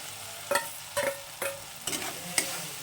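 Pre-fried vegetables sautéed with tomato masala in a pan, low steady sizzling broken by about five regular scraping stirs of a spatula, close and alone.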